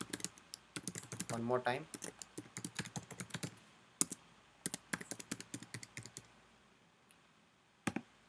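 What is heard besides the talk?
typing on a computer keyboard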